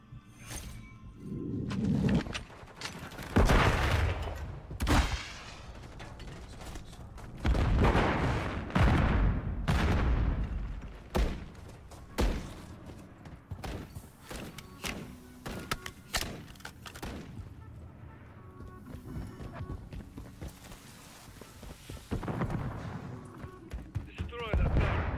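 Gunfire crackles in a Call of Duty online multiplayer match, with bursts of shots and thuds mixed with game sounds, largely beneath a player's loud, excited talking throughout.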